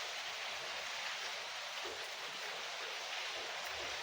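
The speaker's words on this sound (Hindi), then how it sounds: "भाई, बहुत ज़्यादा बारिश हो रही है।" Heavy rain falling outdoors in a street, heard as a dense, constant hiss of steady downpour with no breaks.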